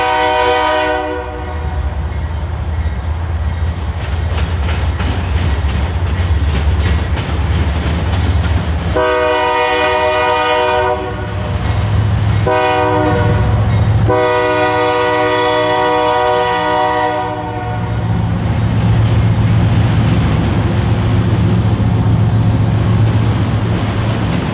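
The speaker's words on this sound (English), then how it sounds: "we captured eastbound Canadian National Manifest Freight Q116, a Chicago, Illinois to Flat Rock, Michigan train" An eastbound Canadian National manifest freight led by two BNSF locomotives rumbles loudly and steadily past at close range, its chord horn blaring in several long blasts over the heavy engine drone and wheel noise.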